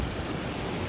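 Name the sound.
waves on a beach, Stewart Island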